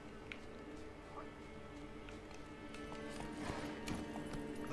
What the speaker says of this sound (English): We'll quickly go to that place by horse.